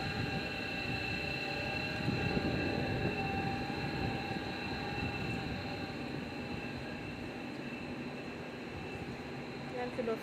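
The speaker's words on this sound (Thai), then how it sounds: "นั่นคือรถไฟ" A steady, continuous rumble of a train rolling past, with high metallic tones holding throughout and no talking.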